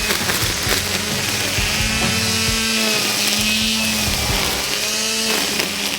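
A DeWalt 40V brushless string trimmer cuts thick brush in an old pasture by a drainage ditch, its motor whining loudly and continuously up close, with the pitch dipping and rising as the line bites into heavier growth.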